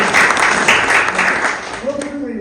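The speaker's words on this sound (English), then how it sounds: "let's give a round of applause" A crowd at a Telangana Liberation Day and birthday celebration in Raleigh, North Carolina, gives a round of applause. The clapping is loud and dense, fades toward the end, and voices are heard near its close.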